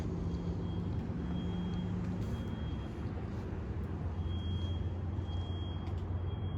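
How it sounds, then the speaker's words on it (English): A thin, high electronic beep repeats at a steady pace under a heavy, constant rumble of vehicle noise during a night patrol. "That beeping's really annoying."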